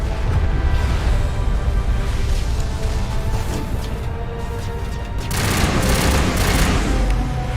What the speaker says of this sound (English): Basically now we're opening up these turrets to take down this Geth drop ship.